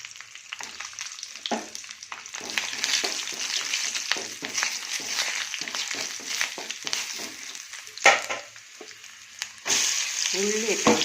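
Onions and garlic sauté in a pan with a steady, close sizzle and crackle, broken by frequent scraping stirs, with a brief louder flare of hiss near the end.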